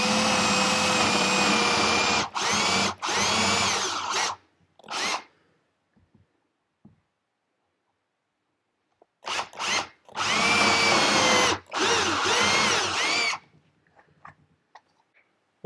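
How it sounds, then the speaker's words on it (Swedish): A power drill with a brad-point wood bit bores into wood for dowels, giving two loud bursts of high whining drilling several seconds each, separated by near silence. "Och så borrar jag ner till tejpremsan."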